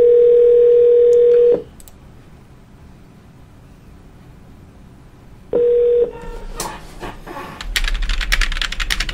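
Phone call being placed through a dialing line: a loud steady dial tone sounds alone for about a second and a half, then quiet line hiss, a second burst of tone, and clicking, keypad-like tapping and rising noise toward the end.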